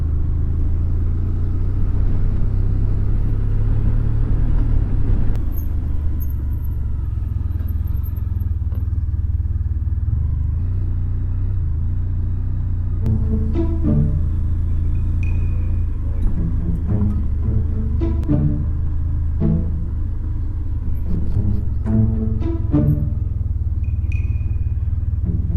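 A Honda Crosstourer motorcycle rides along at steady speed, its engine a continuous low drone under wind and road noise, with brief clicks and rattles from the bike and a faint voice in the later part.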